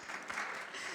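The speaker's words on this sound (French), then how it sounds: "Alors on l'applaudit très fort" Conference audience applauding a guest speaker, a quiet, fairly distant patter of clapping that runs continuously through the short moment.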